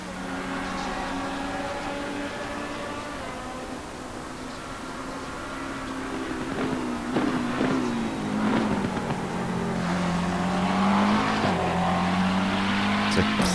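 McLaren 650S GT3 race car at Circuit Zolder, its engine note steady and loud with shifting pitch, rising and falling as it brakes and accelerates, with brief tire squeals and a harsh burst near the end.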